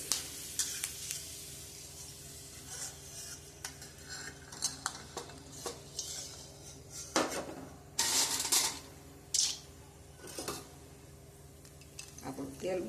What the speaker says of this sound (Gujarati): હવે આપણે એને તળી લેવાની છે